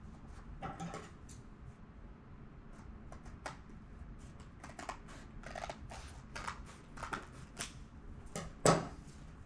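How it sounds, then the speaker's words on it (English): Scissors snip through paper while someone makes homemade paper pads, giving a quiet, close run of crisp, irregular cuts with short pauses between them and no talking. "you just cut that with your scissors"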